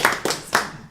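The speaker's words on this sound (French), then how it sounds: "Je pense qu'on peut me l'applaudir." Three sharp, close hand claps in quick succession at a firefighters' congress gathering, each crisp and separate with brief decay between.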